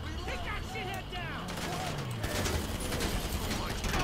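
Dense gunfire from a shootout in the GTA 5 Online video game, a continuous fusillade of rapid shots running steadily throughout under overlapping voices and game sounds.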